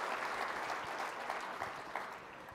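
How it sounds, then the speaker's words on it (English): Audience applause at a national mentoring summit, honoring shared stories and Excellence in Mentoring award winners; a dense, steady wash of many hands clapping that holds even and loud, then eases slightly toward the end. "let's just give another round of applause for the amazing stories you've heard on the stage to this point and our Excellence in Mentoring awardees"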